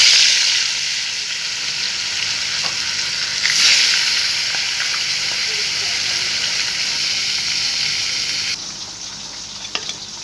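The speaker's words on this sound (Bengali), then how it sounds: "তেল গরম হয়ে গেছে, এবার আমি আস্তে আস্তে মাছগুলো দিয়ে ভেজে নেব।" Koi fish fry in hot oil in a wok, a loud, continuous sizzle and hiss close up that flares briefly and then settles slightly quieter near the end.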